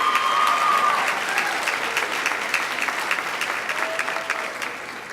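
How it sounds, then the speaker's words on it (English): Audience applause at an awards show for a tournament runner-up coach, a steady wash of many hands clapping that fills the clip and slowly tapers toward the end. "Let's give Coach Tony Hill a round of applause."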